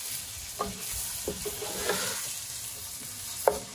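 Fennel and celery sweating in a pan, a soft continuous sizzle with a few light stirring knocks spaced through it, close and fairly quiet, no talking.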